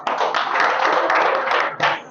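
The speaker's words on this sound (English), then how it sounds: "Give a big round of applause," A seminar audience claps together in a close, busy burst that thins briefly near the end, then picks up again for a final flurry, with no one speaking.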